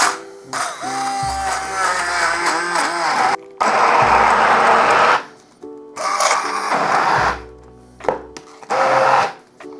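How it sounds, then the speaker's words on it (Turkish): A hand blender whirs in several loud bursts with short pauses between, its motor pitch shifting as it purees cooked artichokes. "Enginarlarımızı pişirdik ve el blender ile bir güzel çekiyoruz."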